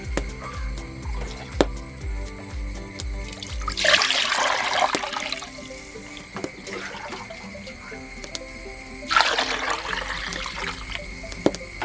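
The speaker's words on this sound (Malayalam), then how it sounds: "നിറച്ച് വെള്ളം ഒഴിച്ചു കൊടുത്ത് തിളപ്പിച്ചെടുക്കും" Water is poured into a clay pot in two splashing bursts, separated by quieter trickling and a few light knocks, with a low rhythmic thumping at the start.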